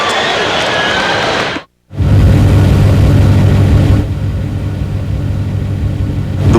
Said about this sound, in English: The powerful all-aluminum alloy engine in the Lexus ES is so incredibly quiet.